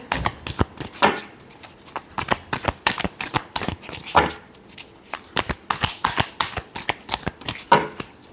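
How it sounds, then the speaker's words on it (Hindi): Tarot cards are shuffled by hand in quick, rhythmic bursts of crisp riffling and tapping, close up and steady throughout. "Last shuffle, 7 of pentacle."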